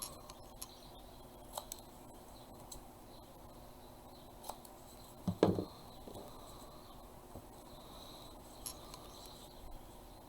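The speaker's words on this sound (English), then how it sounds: "Now I just need to trim it up a little." Paper decorations for a junk journal being trimmed with scissors, sparse quiet snips and small ticks with one louder cluster of cuts midway, close over faint background hum, no talking.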